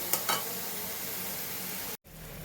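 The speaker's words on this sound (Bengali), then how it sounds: "আর একটু কষানোটা হবে।" Spiced fish curry masala with tomato and yogurt frying in a pan: a constant close sizzle with a couple of clanks from the spoon early on, then a brief cut before the frying hiss returns.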